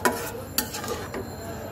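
Tomatoes and small kachki fish being stirred together in a pan, with soft scraping strokes and faint clinks of utensil on metal over a low sizzle, close and fairly quiet.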